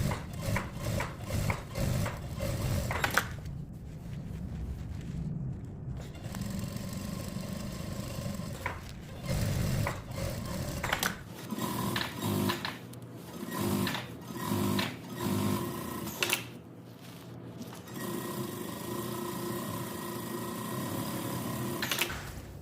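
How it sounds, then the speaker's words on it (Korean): Sewing machine topstitching a denim jacket with thick thread, running in several bursts of steady mechanical whirring separated by brief pauses and handling noises. "저는 실 스티치 실로 변경합니다. 조금 더 굵어요. 일반 실보다."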